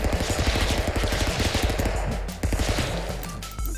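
Rapid bursts of AK-47 automatic gunfire in the Stick Fight game, loud and dense with a fast regular rattle of shots, briefly pausing and resuming near the end.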